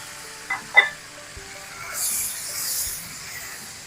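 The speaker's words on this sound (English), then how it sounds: "And now I'm going to add my 28 ounces of roughly chopped" Chopped tomatoes dropped into a hot pan of rendered meat for bucatini all'amatriciana, giving a couple of soft thumps and then a steady, moderate sizzle and hiss that swells and fades, with no talk.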